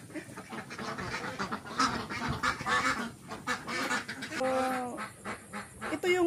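Pekin ducks in their pen quack and honk noisily and close by, a dense overlapping chorus of calls with louder bursts throughout.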